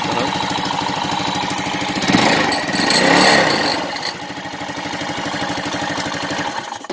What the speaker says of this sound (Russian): Ну что ж, слава богу, двигатель все благополучно завелся.